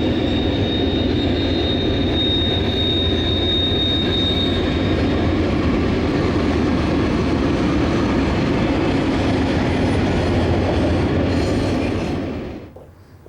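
A BNSF stack train heading west from Chicago toward Tacoma rolls past at close range in Montana, a loud steady rumble of wagons with a thin wheel squeal early on, fading quickly at the very end.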